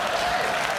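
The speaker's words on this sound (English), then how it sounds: "bigger applause than my own show" A studio audience breaks into loud, sustained applause and cheering, a dense wash of clapping that fills the whole short moment without pause.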